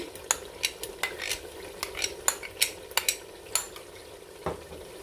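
Yogurt being stirred into mutton frying with tomato masala for biryani: repeated sharp spoon clinks and scrapes against the pot over a faint sizzle, close and fairly quiet, with no voices.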